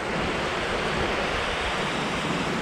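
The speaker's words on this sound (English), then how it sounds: "That's the creek." Creek water rushing past a small man-made dam, a steady, dense broadband wash of flowing water close to the microphone. No voices are heard over it.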